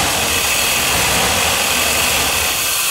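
A junkyard engine fitted with a Holley Terminator X fuel injection system runs slightly lean, giving a loud, steady, close-up drone with a constant even hum and no talk.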